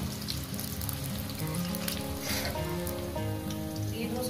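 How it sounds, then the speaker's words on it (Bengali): Potatoes frying in hot oil give a continuous, moderately loud sizzle and crackle, with a steady tonal sound running underneath. "প্রথমে আমি আলুগুলো 2 মিনিট ভেজে নেব"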